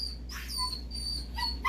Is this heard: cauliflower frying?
no